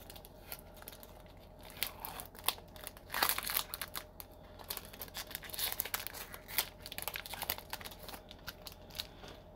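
Magic The Gathering card packs torn open by hand, a steady close run of crinkling foil wrapper and ripping paper with small rustles and snaps throughout.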